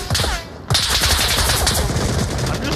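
Rapid machine-gun fire crackles continuously during a Normandy beach assault in a video game, dense overlapping bursts close and loud, with one short gap near the start before the volley resumes.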